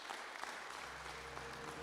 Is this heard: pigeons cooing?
no